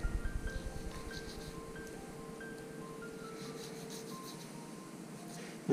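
A thin knife trims a venison shoulder in repeated rubbing, scraping strokes, close and fairly quiet, quickening at the start and then settling into a steady rasp, with a short louder bump at the end.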